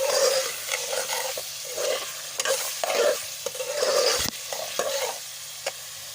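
Liver fries with turmeric and red chilli powder while a spoon stirs it, giving a close sizzle with repeated scraping strokes against the pan and a sharp knock near the middle.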